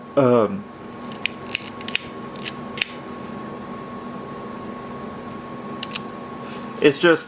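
A few quiet, soft mechanical clicks from a Minox 35 PL film camera shutter, spaced apart over a low steady hum outdoors, with brief voice snippets at the start and end.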